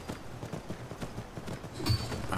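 Horse hooves in Ultimate Skyrim clop in a quick, even rhythm throughout, close and fairly loud, with a brief scuffle of fight noise near the end.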